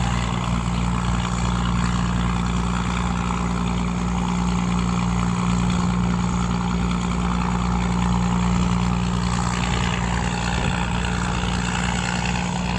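A wooden tugboat engine runs continuously on a river at a steady, loud, low rumble with a rhythmic chugging throughout.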